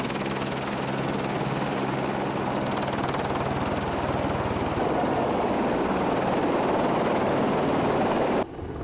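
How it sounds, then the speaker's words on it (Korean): A forest-fire helicopter arrives at the Hamyang management office, its rotor chopping loud and continuous with a steady rhythmic beat and engine whine, cutting off sharply at the end. "함양관리소에 다급히 헬기 한 대가 날아왔다"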